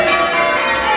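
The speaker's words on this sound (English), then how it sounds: "bringing to an end a centuries-old ritual of church bells tolling over Bollington" Church bells at St John's Church in Bollington, cast in 1880 by John Taylor and Company, ringing with sustained overlapping metallic tones in a brief loud excerpt.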